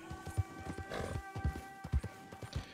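Horse hooves clip-clop in a steady rhythm in Red Dead Redemption 2, with a brief whinny, close and moderately loud over soft ambient game music.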